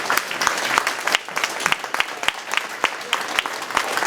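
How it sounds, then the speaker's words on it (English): An audience at a referendum meeting gives warm applause for two representatives: dense, continuous clapping from a room full of people, loud and near, with no talk over it. "I want to give a warm applause for both representatives."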